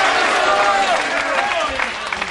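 A pool match crowd at the 2003 World Pool Championship applauds a shot in a Strickland versus Davis match, with steady clapping throughout and a commentator's voice talking over it.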